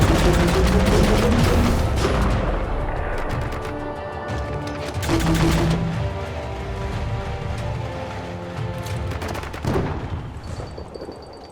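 Dense, continuous gunfire from a video game, Biomutant, with rapid shots and bursts piling up over game music and effects, loud and busy throughout with a few sharper blasts standing out.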